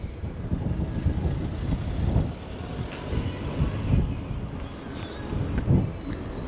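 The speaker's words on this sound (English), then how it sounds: "all of a sudden the wind is picking right up" Strong wind buffets the microphone in low, uneven rumbling gusts that swell and ease over several seconds, with no clear speech.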